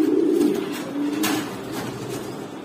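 Kaldom pigeons cooing at a pigeon farm, a couple of soft throaty coos close by with brief rustling between, no talking.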